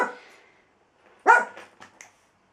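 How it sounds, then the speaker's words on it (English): A dog gives one loud, close bark followed by a few shorter yips, after a brief fading sound and then silence. "Every time I want to record something, she barks."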